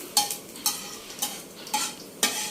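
Two spoons of coriander seeds roast in a pan over low heat, with five evenly spaced stirring scrapes and soft rattles of the seeds against the pan, fairly quiet with no talking.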